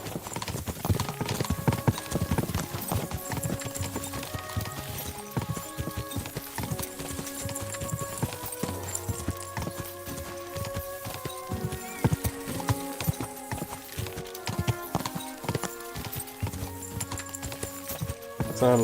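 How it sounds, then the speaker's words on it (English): A horse gallops in the medieval video game Kingdom Come Deliverance 2, its rapid rhythmic hoofbeats running steadily under a layer of game music, with a brief whinny; moderately loud and continuous. "o cavalo parece que soltou um turbo"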